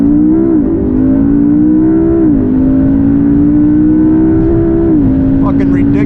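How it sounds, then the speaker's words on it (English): A 2012 McLaren MP4-12C on launch control roars loudly and continuously as it accelerates hard, the engine note climbing through the gears with brief dips at each shift, close and dominant throughout. "hit the launch button, launch mode active on the dash. We're going to waiting for throttle, boost building, boost ready,"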